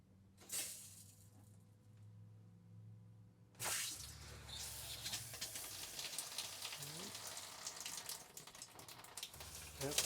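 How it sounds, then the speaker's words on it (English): An RV shower faucet in a Riverside Retro travel trailer runs, flushing pink antifreeze through the lines: a brief splash, then after a pause a steady, close rush of water that continues to the end. "So now, really, as I turn on the faucets, I should see pink coming out pretty soon."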